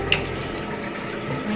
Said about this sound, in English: So I am about to wash my face.